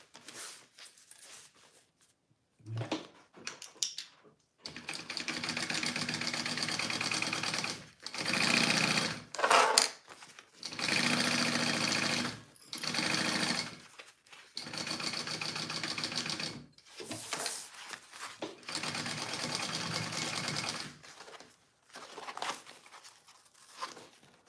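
A sewing machine stitching a purse, running in repeated loud bursts of rapid mechanical chatter separated by short pauses, close and alone.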